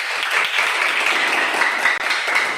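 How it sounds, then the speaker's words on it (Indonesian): Students in a classroom give a burst of applause during a science lesson on plant structure, dense and continuous for a couple of seconds with a brief dip near the end. "Pak Ujang, berikan tepuk tangan."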